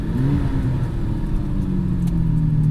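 A Lamborghini Countach on the road, its engine droning and revving steadily as the car drives along, a close, loud, even mechanical rumble with no voices.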